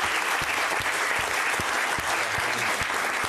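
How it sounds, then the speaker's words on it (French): A hall audience applauds a guest, the author Alexandre Jardin, with dense, steady clapping that fills the whole stretch at an even, moderate level. "Je vous demande de l'applaudir."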